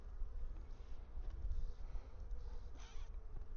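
Honey bees buzz at a hive being given water before mite washing, a close, continuous low hum with a few passing individual wingbeat swells, no voices.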